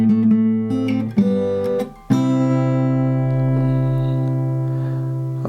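Fingerstyle guitar picks out the third bar of a theme from Lord of the Rings, with sustained chords and plucked notes ringing close and clear, a brief drop in the middle before a full ringing chord carries to the end.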